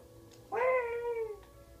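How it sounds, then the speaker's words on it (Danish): A single clear cat meow from the video game Skyrim, a short rising-then-falling call heard close and alone over a faint background. "En kat."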